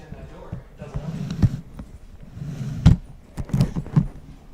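A stuck door inside an abandoned school is pushed and tried, giving a handful of close, loud knocks and rattling thuds at irregular intervals, clustered toward the end, over a low rumbling background with faint voice sounds.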